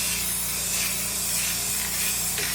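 Spray paint hisses from an aerosol can inside the trunk of a 1964 Ford Falcon under restoration. The spraying is close and loud, one continuous burst with no pauses.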